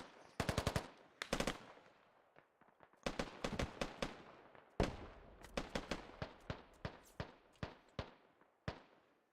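Grenade launcher fire on the Chora map in a multiplayer shooter: clusters of sharp, loud reports in quick bursts, repeating through the stretch with short gaps, close and dry, with no voices.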